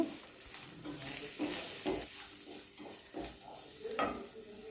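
Okra curry being stirred in a pan after salt and ground spices go in, a spoon scraping in repeated strokes over a faint sizzle, fairly quiet and close with no talking.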